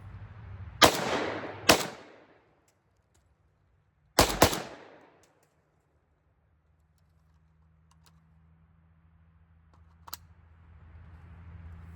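AK rifle firing brass case ammunition at an outdoor range: three sharp, loud gunshots, two close together and then a third after a pause, each followed by a short ringing echo, then near quiet with a faint distant crack.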